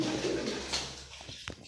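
A pet pigeon coos briefly and softly nearby: a low, soft burble in a quiet room, with a couple of small clicks at the end and no talking.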